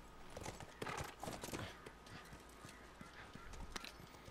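Horse hooves clip-clopping in The Last of Us video game, with a few soft whinnies, a steady trotting rhythm at moderate distance, faintly mixed with a low voice.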